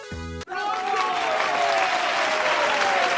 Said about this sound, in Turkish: Alkışlar hepinize çocuklar